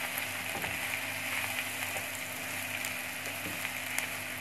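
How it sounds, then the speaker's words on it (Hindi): Chopped onions frying lightly in a pan, a steady soft sizzle with occasional scraping clicks from a spoon stirring them, close and continuous without talk. "प्याज को हम पहले लाइट सा फ्राई करेंगे, चम्मच की मदद से मैं मिक्स कर लेती हूँ।"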